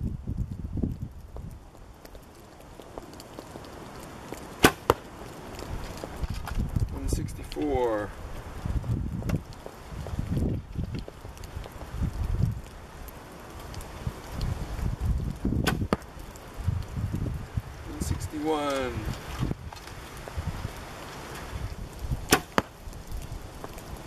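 Bow fitted with Goshawk carbon and fiberglass limbs shooting arrows outdoors, a few sharp releases spaced several seconds apart amid wind noise, rustling and footsteps, with people talking in between.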